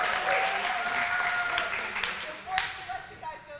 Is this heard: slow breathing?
no